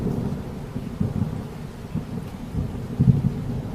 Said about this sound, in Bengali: মুষলধারা বৃষ্টির আর ঝড়ের দাপটে সামনে এগোনো বড়ই মুশকিল।